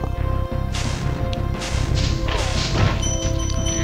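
In Spyro the Dragon, Spyro's fire-breath attack strikes enemies, producing a run of loud whooshing bursts and heavy thuds and crashes over game music, with a short pause partway through.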